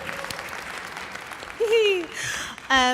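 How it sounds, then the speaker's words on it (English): Audience applause at a PAX Unplugged convention panel, a steady wash of clapping running beneath a voice talking over it, with some louder, brighter bursts near the end. "Clap for him first"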